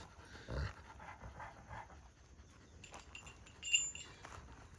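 Two Kangal dogs pant quietly in rapid, rhythmic breaths, with a few louder bursts and faint rustling in the background.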